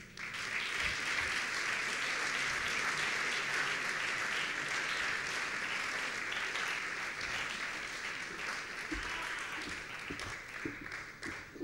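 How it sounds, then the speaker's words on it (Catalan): Sustained, dense audience applause fills a hall at an awards ceremony, the Premis Ovidi Montllor, steady and loud throughout before tapering slightly near the end. "Un aplaudiment."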